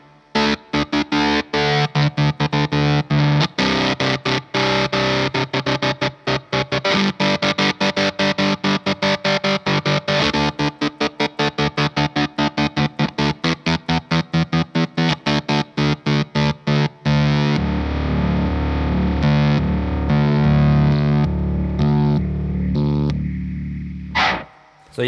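Electric guitar chords played through a Third Man Triplegraph octave pedal, with heavily effected, distorted strums chopped into rapid stuttering bursts, then a long sustained octave-thickened chord ringing out near the end.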